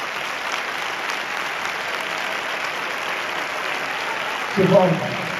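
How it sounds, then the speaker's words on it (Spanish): Audience applause fills a band concert hall, a steady dense clapping throughout that swells briefly near the end as a voice begins to speak over it. "fortísimo aplaudiment"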